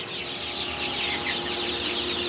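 Steady clucking from a group of chicks being moved to another room fills the space, a continuous busy chatter with no talking over it.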